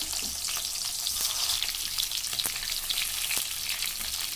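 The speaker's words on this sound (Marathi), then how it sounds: "तेल गरम झालेलं आहे एकदम चांगल्या प्रकारे आता आपण त्याच्यामध्ये भरलेली वांगे टाकणार आहोत ते जरा फ्राय करून घ्यायचे आहे" Stuffed brinjals fry in hot oil in a pan, with a loud, continuous close-up sizzle and scattered popping crackles.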